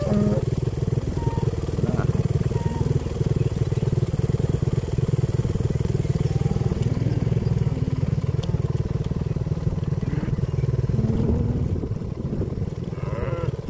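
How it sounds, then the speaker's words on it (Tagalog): Motorcycle used on a dairy cattle farm idling steadily with a low, continuous engine rumble, close by, while cattle moo faintly in the background. "ito naman yung aking bike na ginagamit dito"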